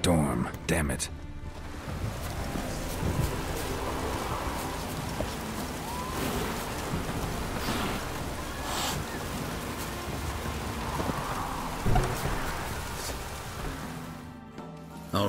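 Steady rain patters through a storm in The Witcher video game, a continuous wash of falling water with faint rumbling, while people talk over it.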